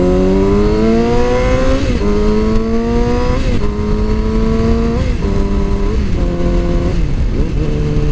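A 2007 Yamaha R6 sport motorcycle engine while riding, loud and close, its high-pitched whine climbing through the revs and dipping at repeated gear shifts, steady wind roar underneath throughout.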